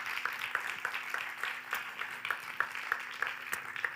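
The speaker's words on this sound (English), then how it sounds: "Please, round of applause for all of these students." Audience applause for the student teams at the Hack For Heat finale of the LG Air Solution Student Challenge in Paris: steady, fairly faint clapping from a crowd, with sharp individual claps standing out over a low hum.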